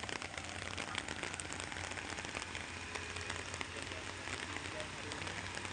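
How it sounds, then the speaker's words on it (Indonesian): Heavy rain pours steadily onto a muddy road on the Batu Jomba hill climb, a dense continuous hiss with close patter throughout, with a low engine rumble underneath. "Posisinya hujan deras sekarang bosku ya."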